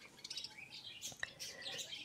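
Small birds at birdhouses where they are fed chirp and tweet in short, scattered calls, faint and somewhat distant, over quiet morning ambience.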